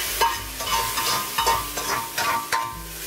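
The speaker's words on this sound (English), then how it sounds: "Now I'm just going to remove the beef from the pan." Beef sizzles in a hot frying pan while a utensil scrapes and lifts it out, with several clattering scrapes over a steady close hiss and no talking.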